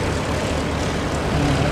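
A medical transport aircraft passes overhead near Christchurch, its engine drone a broad, steady roar that stays loud and continuous throughout, with no talking.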